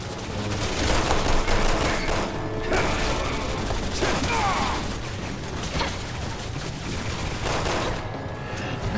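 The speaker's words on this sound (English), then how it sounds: "I'm getting shot over here." Enemy gunfire in Resident Evil 6, with heavily armed foes including a Gatling gun, rattles in sustained loud bursts alongside clanking mechanical sounds, filling the whole stretch with little pause.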